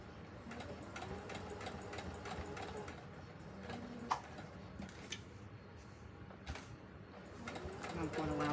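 A home sewing machine stitches around the curved edge of an emoji pillow at a craft table, a quiet, steady rapid ticking hum in short runs, with a faint voice and a few small clicks nearby.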